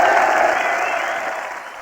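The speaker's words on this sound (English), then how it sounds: "At least the crowd really gets into it." A stadium crowd in Mario & Sonic at the Olympic Games cheers and applauds in a loud, dense roar that slowly fades before cutting off abruptly.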